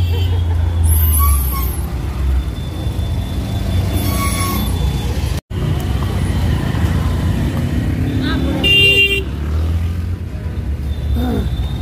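Heavy street traffic in Paharganj, Delhi, with cars, buses and trucks rumbling past nearby, a hiss of air brakes and several honks, while people talk over the steady roar.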